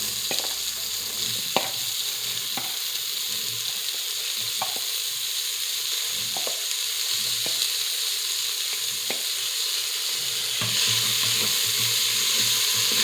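Ginger garlic paste and field beans frying in a pot, giving a steady soft sizzle throughout with a few light stirring clicks and scrapes, close and alone with no talking.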